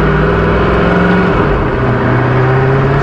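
A Koenigsegg Agera One:1 hypercar with 1360 horsepower drones loudly up close, its engine holding a dense, steady roar with layered harmonics and no talk.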